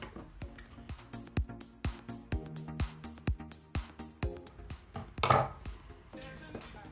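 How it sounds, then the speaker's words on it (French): Silver glitter masking tape being cut, a quick series of about a dozen crisp, close snips in a steady rhythm, followed by a brief louder rustle of the tape. "Donc je vais couper la bande."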